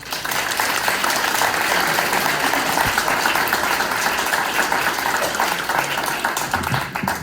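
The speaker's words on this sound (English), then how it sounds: "One more round of applause." Sustained audience applause at a Sicilian heritage event in south Louisiana, dense and steady clapping from a large crowd for about seven seconds, filling the room without any talk over it.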